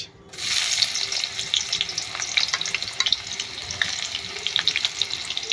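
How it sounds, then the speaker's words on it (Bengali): Chopped onions sizzle in hot oil in a pan while egg chow mein is being cooked. The frying crackle is steady and close, with popping spits throughout. "আমার তেল গরম হয়ে গিয়েছে এর মধ্যে দিয়ে দেবো পেঁয়াজ"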